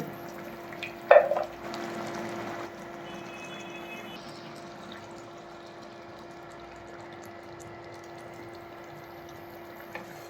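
Ground panch phoron is stirred into dudh shukto in a pan, with a sharp scrape and clatter near the start and then a soft, steady sizzle and low hum that continue alone.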